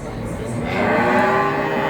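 Cattle at the Jatirogo cattle market in Indonesia: one nearby cow lets out a long, rising moo over a noisy crowded background of market chatter.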